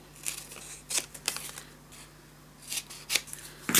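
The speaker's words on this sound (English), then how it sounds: "cut the corners" Scissors snip the corners of scrapbook paper, a series of short crisp cuts in small clusters, close and fairly quiet, with no talk.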